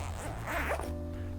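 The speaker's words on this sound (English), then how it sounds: "So there's a zipper here at the top that you unzip." A zipper on a pool cue case is drawn open in one short, close pull with a scratchy rasp that stops abruptly, leaving a quiet hum behind.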